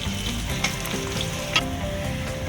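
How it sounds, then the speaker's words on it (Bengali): Three small chopped onions sizzle and fry in a pan while being stirred, a steady close crackle with a few scraping stirs. "ভালো করে নাড়াচাড়া করছি যতক্ষণ না পেঁয়াজটা একটু ভাজা ভাজা হয়।"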